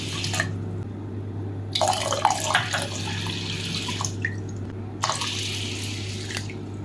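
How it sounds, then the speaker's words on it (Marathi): Water poured over whole masoor lentils in a pot, a soft splashing trickle that comes in a few separate bursts over a low, steady background hum. "आता यामध्ये बुडेल इतपत पाणी टाकून घेऊ"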